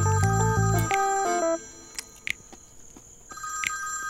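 A telephone rings in a short electronic trill at home, a few rings sounding alone at moderate level behind a short musical phrase at the start.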